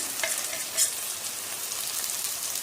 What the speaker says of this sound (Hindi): I have added the chilli flakes and the paprika to it and now stir well